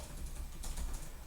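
A short burst of typing on a computer keyboard, soft rapid key taps over a constant low background hiss, faint and without speech.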